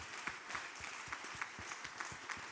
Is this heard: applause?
yes